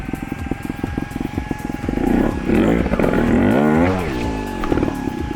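A Vertigo Nitro trial motorcycle climbing in second gear at a trial school, its engine loud and close with a steady putter that swells into a revving surge midway, then settles back.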